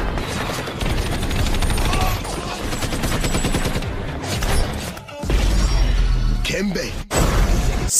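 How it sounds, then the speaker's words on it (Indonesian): Heavy machine gun fire from enemy defenders in an action film battle with Navy SEALs, rapid sustained bursts filling the scene with dense crackling shots and impacts, a narrator's voice running over the top. "Bahkan musuh menggunakan senapan mesin hingga pertahanan sulit untuk ditembus"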